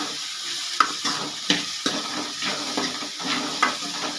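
Green chillies, slit lengthwise, sauté in hot oil in a pan for idli sambar, giving a steady sizzle with short scraping stirs of a spoon, close and continuous.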